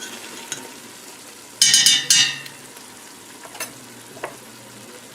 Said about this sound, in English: So we're just going to add in the chili.